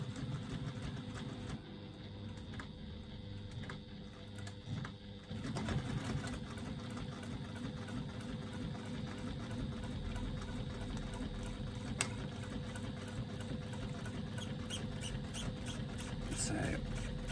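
Sewing machine stitching a zipper flap, a continuous fast mechanical whirr with a steady rapid rhythm that runs close and loud throughout, with a voice talking over it.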